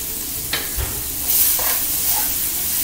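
Chopped onion hitting a hot pan over medium-high heat, a soft hiss rising to a brief brighter sizzle with a couple of light knocks from stirring, no voices.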